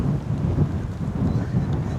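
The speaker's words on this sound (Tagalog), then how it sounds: "Medyo malakas yung hangin ngayon dahil nga mayroong bagyo banda rito sa may papunta ng Taiwan." Strong gusty wind from a nearby typhoon buffets the microphone on Sabtang Island, Batanes, a dense low rumbling roar that stays loud and continuous throughout, with no voices.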